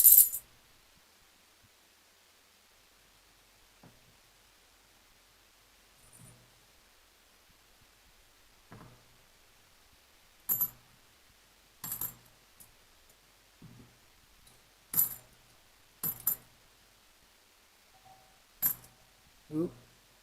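Sharp metallic clinks of half dollar coins, one or two at a time, scattered irregularly across a quiet room with long silent gaps between them.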